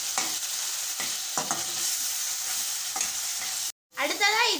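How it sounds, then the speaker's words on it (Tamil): A spoon stirs onion, tomato, green chilli and ginger-garlic paste frying in a pan, with a steady close sizzle and a few scraping strokes; a brief voice-like sound comes near the end. "இப்போ இதை ஒரு கிளறி கிளறி விட்டுடலாம்."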